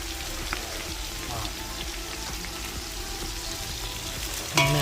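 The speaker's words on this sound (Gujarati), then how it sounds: "મિક્સ કરી અને ચડવવાની છે તેલની અંદર. તો આપણે એને વ્યવસ્થિત તળવા દેવાની છે." Chopped onion frying in hot oil with cumin for khichdi or pulao, a dense continuous crackling sizzle with occasional stirring clinks, close, and a sharp louder burst at the very end.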